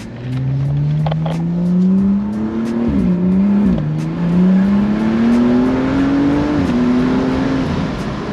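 A tuned stage 2 BMW M235i accelerating hard, heard from inside the car: loud engine drone climbs steadily in pitch through the revs, with brief dips at gear shifts before rising again.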